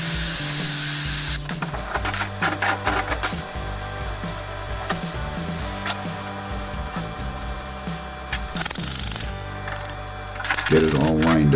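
A power tool whirs and grinds in uneven bursts while trimming off a piece during a Warn winch install on a garage floor, close and loud, with a person talking over it.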